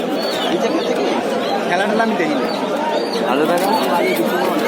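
Pigeons at a busy pigeon market, with soft bird calls and coos blending into constant crowd chatter and nearby talking throughout.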